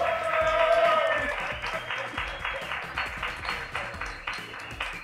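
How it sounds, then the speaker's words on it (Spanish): A crowd in a TV bar studio applauds for Rumarda after a strikeout of Omar Vizquel, a steady, fairly loud patter of clapping that slowly thins, with little talk over it. "Un aplauso para Rumarda, señores."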